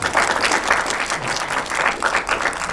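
Warm audience applause for a film team at a screening conference, a loud, dense burst of clapping from a crowd that rolls on steadily in gentle waves.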